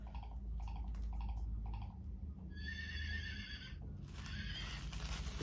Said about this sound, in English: It's making horse noises.